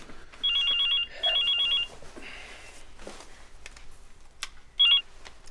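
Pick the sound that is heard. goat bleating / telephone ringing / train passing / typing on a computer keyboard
telephone ringing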